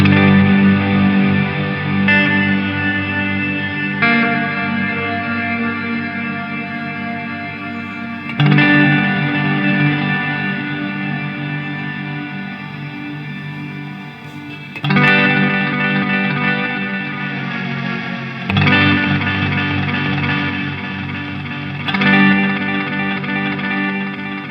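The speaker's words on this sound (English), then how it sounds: "It's a delay it's a multi-tap delay." Ambient pedalboard multi-tap delay with reverb on sustained guitar chords, loud washy drones that restart every few seconds while individual delay repeats smear together, with no voices.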